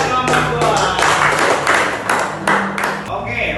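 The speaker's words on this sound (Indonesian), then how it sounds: "Beri tepuk tangan buat kelompok" Classroom applause for a student group after its presentation at a university teaching session, steady clapping throughout with voices underneath.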